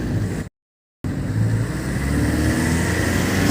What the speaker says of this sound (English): an old hire car, which is an old work van